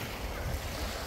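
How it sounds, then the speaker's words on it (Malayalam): Small waves lap on Lake Taupo in New Zealand, a brief, faint, even wash of water mixed with breezy outdoor noise. "അത്യാവശ്യം തിരമാലുണ്ട് നമ്മൾ ചെറിയ തിരകളാണ്"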